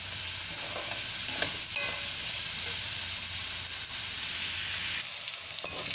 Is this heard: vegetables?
yes